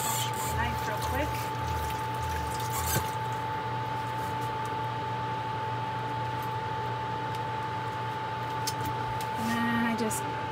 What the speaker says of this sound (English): I'll just take that and wash my knife real quick.